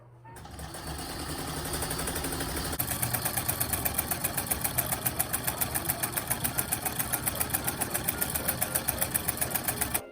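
Antique Singer 99-13 sewing machine stitching scrap muslin, a close, fast, even mechanical clatter that starts after a brief pause and runs steadily to the end.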